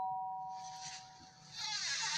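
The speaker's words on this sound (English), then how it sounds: "You got a new doorbell." A doorbell rings indoors with a sustained electronic chime tone, moderately faint, followed by a brighter ringing swell near the end, no talk.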